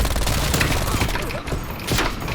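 A MAC-10 submachine gun fired from the hip in Call of Duty: Black Ops Cold War gives loud, continuous rapid-fire bursts with booming overlapping reports, close up and steady throughout.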